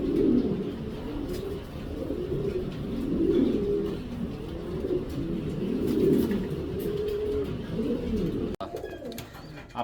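Fancy pigeons, a blue spangle shallow pair, coo in repeated low, rolling phrases close by, a continuous throaty murmur of several birds through the whole stretch.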